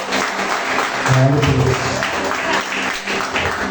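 A church congregation claps along in a loud, continuous wash of hand clapping while a voice speaks over it.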